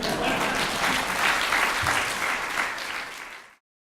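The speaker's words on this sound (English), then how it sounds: "beginning of applause" Audience applause closing a university talk, a dense, loud wash of many clapping hands held steady for several seconds before cutting off abruptly.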